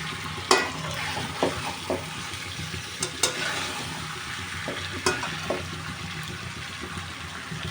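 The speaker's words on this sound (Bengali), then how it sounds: "মাছগুলো ভালোভাবে কষানো হয়ে গেছে।" Shol fish being sautéed in a pan gives a continuous close sizzle, with occasional sharp clacks and scrapes of a spatula stirring the pieces.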